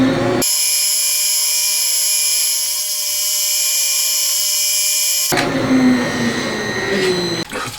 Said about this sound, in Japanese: 3mm で、普通のドリルでいけるとこまでまずいきます